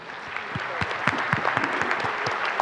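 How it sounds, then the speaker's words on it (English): A smaller conference audience claps for a panel, with individual hand claps audible in a lively, uneven rhythm that holds steady for a few seconds. "Could you please give a warm round of applause to the panelists?"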